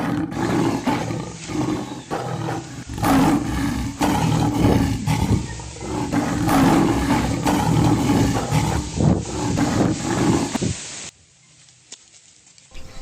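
A lion's roar staged in a Grade 8 school play of Florante at Laura, loud and sustained for about eleven seconds with rumbling bursts, then cutting off abruptly into near silence.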